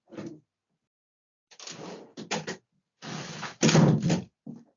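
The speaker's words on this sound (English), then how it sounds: "I'm just going to close the door for my dog." An indoor door is pushed shut, making a series of close scrapes and shuffles followed by a louder thud and a small latch click at the end.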